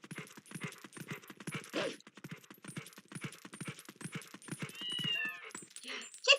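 Cats in Zelda: Twilight Princess meow in short repeated calls over a rapid clip-clop of game footsteps, with a few chiming tones near the end.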